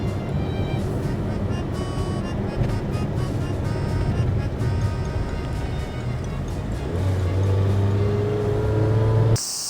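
New Toyota TownAce camper van driving up a winding mountain road on a hot summer day: a steady engine hum with road and tyre noise throughout, rising slightly in pitch near the end as the engine works harder.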